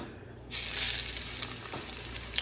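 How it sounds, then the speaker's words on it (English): Food drops into hot oil in a skillet and the quiet background suddenly turns into a loud, bright, continuous sizzle that keeps crackling steadily, close by and with no talk. "just gonna cook these quick in the oil"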